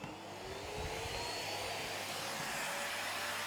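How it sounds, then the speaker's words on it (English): A vacuum cleaner draws dust off a timber door being prepared for varnishing, a steady broadband whoosh and motor drone running continuously at moderate level with no voices. "Vacuum cleaner."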